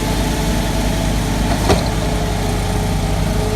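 Diesel engine of a concrete pumping truck idling steadily and loudly at close range, a constant low rumble with mechanical hum and no speech, as trucks unload into its hopper on a job site.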